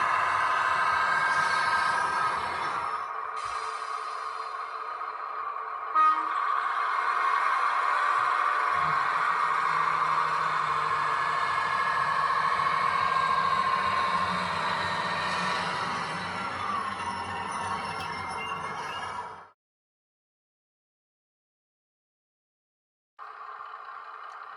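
A Hornby Class 153 model train in Transport for Wales livery runs with DCC sound, a steady buzzing diesel-style drone with shifting tones that stops abruptly near the end, then resumes briefly.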